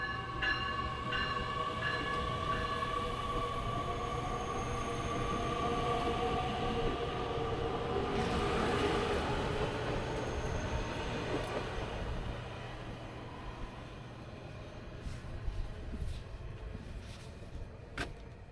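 A train rumbles steadily through Chicago's 55th-56th-57th Street station, a loud, continuous roar of wheels and cars that eases off somewhat toward the end, with a few faint clanks.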